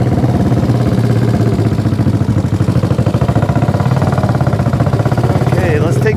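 Rebuilt Honda CB350 motorcycle engine running steadily at idle, a loud, close, even pulsing throb that holds for several seconds without a break.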